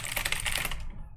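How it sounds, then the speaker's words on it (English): Rapid typing on a computer keyboard, a quick dense run of close key clicks for about a second before trailing off. "That's me typing, right?"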